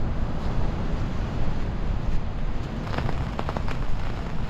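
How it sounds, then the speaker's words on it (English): Heavy rain and blustery wind sweep a stormy Bournemouth beach during a fishing session, a dense continuous hiss with low wind rumble and a few sharper drop patters near the end. "But the rain's a lot heavier than I thought it would be."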